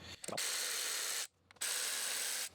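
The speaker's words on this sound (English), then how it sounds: "to remove this fuel rail, we just need to disconnect the 4 8mm bolts" A ratchet loosening 8mm fuel rail bolts on a car engine during engine removal, giving two long, close, steady bursts of rapid clicking separated by a short pause.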